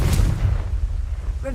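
A Confringo blasting spell explodes in the video game Hogwarts Legacy, a single loud boom with a sharp crack that rumbles and fades over a second or so, with game voices and effects around it.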